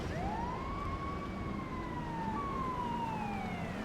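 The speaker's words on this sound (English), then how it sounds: "There's a dying siren." A police siren in the video game GTA 5 wails in long rising and falling sweeps, heard at a distance and somewhat faint over a low background rumble, with no talking.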